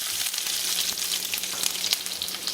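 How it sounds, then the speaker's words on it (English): Onions frying in about two tablespoons of hot oil in a pan, a loud, close, continuous crackling sizzle with small pops throughout. "Now we'll add onions to the pan."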